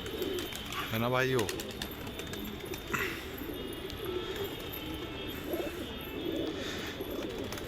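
A pigeon gives a clear throaty coo early on, with softer cooing and outdoor ambience around it while someone talks.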